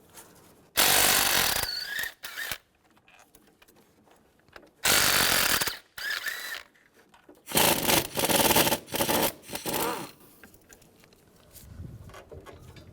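A 16mm socket on a ratchet or tool loosening engine mount bolts on a Chevrolet Cobalt, several loud bursts of whirring, grinding mechanical noise separated by quiet gaps, close by.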